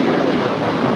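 A SkyWest Embraer E175 LR airliner departs LAX with a steady, broad jet roar, loud and continuous throughout with no voices.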